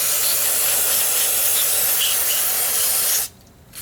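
Carb cleaner sprays onto an oily, dirty Corvair oil cooler adapter in one loud, close, continuous hiss that cuts off abruptly near the end.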